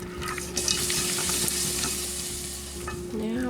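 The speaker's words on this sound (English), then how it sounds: "Now we're just going to stir this until it melts." A mixture with strawberries is stirred in a pot as it melts, a close, continuous bubbling sizzle with occasional spoon scrapes and a steady hum, no talking.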